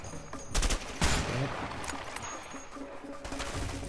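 Gunfire in the video game A Way Out: a loud heavy shot at about one second stands out from rapid bursts of fire before it, and a scattered crackle of shooting continues after it.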